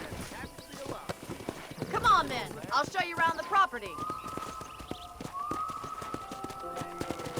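Horse hooves clip-clop steadily in the remastered Red Dead Redemption video game, with a brief whinny, a close rhythmic trot beneath people talking.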